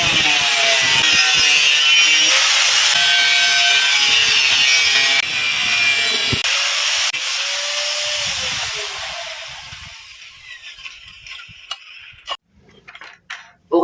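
Steady back-and-forth strokes of a hand saw cutting through wood, close and loud, slowing and fading into a few scattered knocks and taps at the end.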